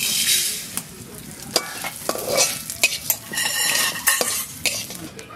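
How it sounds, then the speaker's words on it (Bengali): Mung dal frying and being stirred in hot mustard oil in a village kadai, a steady close sizzle broken by repeated scrapes and clinks of a spoon against the pan, with no voices. "ডালটা একটু ভেজে নিচ্ছি।"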